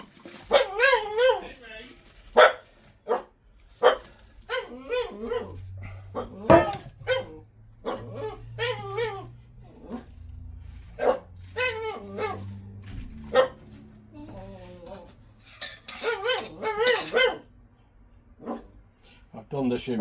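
A pet dog barks and yips in short sharp bursts, near and loud, while someone talks over it during dinner at home.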